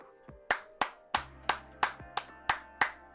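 Nine sharp hand claps in a steady rhythm, close and loud, each with a quick decay, with no voices over them.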